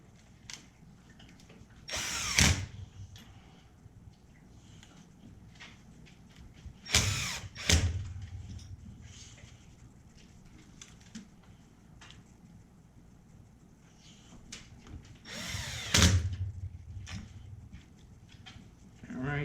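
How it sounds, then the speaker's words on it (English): A power drill drives three screws back into the bearing case of an Arrma Kraton 8S RC car, three loud, close whirring bursts spaced several seconds apart, with quiet handling sounds between. "go ahead and put your 3 screws that holds that case on back in"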